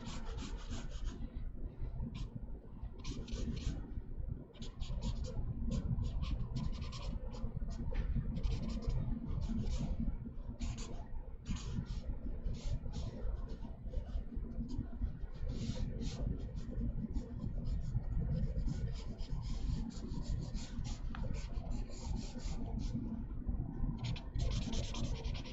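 Number 3 gray marker shading an SUV concept sketch, a continuous close scratchy rubbing of the felt tip across paper with quick repeated strokes throughout, no talk.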